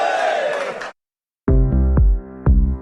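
Radio studio guests let out a short loud group cheer and shout, which cuts off abruptly to silence before punchy musical stabs play.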